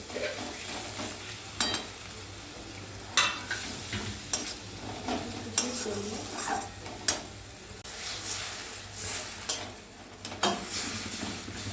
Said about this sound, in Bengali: এর মধ্যে সামান্য একটু জল দেবো, দিয়ে আমি মশলাটাকে কষাবো